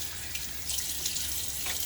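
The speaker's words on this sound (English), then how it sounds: "water on my face again" Running water from a tap splashes as it is scooped onto a face during a wet shave, a close, steady hiss with soft splashes and no talk.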